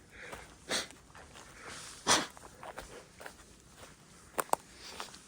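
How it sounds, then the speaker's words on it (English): A person blows their nose outdoors during a run, a few short, quiet, breathy honks spread apart and heard close by against faint background noise. "Oh, hold on, I gotta blow my nose."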